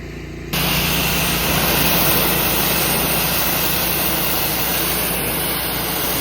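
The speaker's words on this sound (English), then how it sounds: "Then I'm gonna go through with just a light pressure rinse and this deck will look brand new." Pressure washer giving a wooden deck a light rinse, a steady loud broadband spray and motor hiss that starts abruptly after a brief pause and runs unbroken and close.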